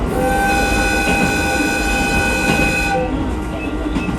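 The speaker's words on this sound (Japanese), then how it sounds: "たまになる警笛が良い。 ローカル線らしい音。" A JR Hokkaido H100 diesel railcar on a rural local line through forested hills, rumbling steadily up close with a sustained horn tone running through most of the passage before it fades near the end.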